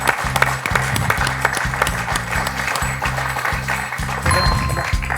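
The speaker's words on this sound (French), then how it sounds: "On peut l'applaudir." A studio audience on the French quiz show Questions pour un champion applauds a contestant, with steady clapping over a repeating low musical sting throughout.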